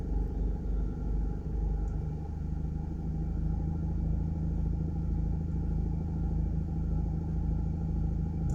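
Steady low rumble of road traffic on a Jamaican coastal highway near construction, engines droning continuously and close, with no distinct passes standing out.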